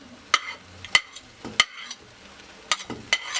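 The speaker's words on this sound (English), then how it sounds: "Just let the garlic sizzle a little bit to become more aromatic." Garlic and mushrooms frying in oil in a pan, heard as a soft sizzle broken by several sharp scraping clicks of stirring, close and fairly quiet, with no talking.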